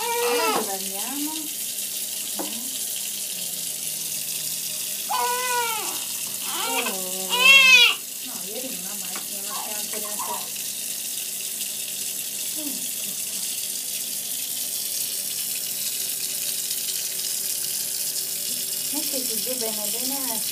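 Tap water runs steadily into a bathtub, a continuous hiss of filling water throughout, with a few voices talking and babbling over it at moments.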